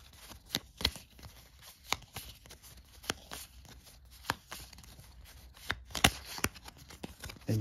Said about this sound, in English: your setup cards, you shuffle them